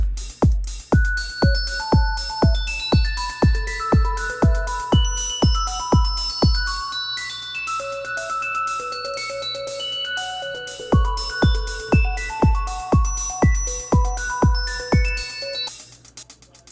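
A steady electronic open hi-hat pattern livecoded in ChucK, sharp percussive hits with bright, sustained metallic tones layered over a repeating pulse, loud and continuous, ending abruptly.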